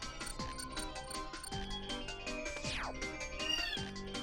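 A cartoonish cat meow from the Super Paper Mario video game rises over bright, looping game music with plucked, rhythmic notes, the mew sitting clearly on top of the backing track near the middle of the clip.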